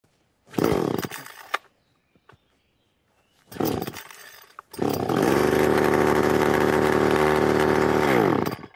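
A chainsaw sputters through two short pull-start bursts, then catches and roars loudly and steadily, its pitch dipping slightly before it winds down.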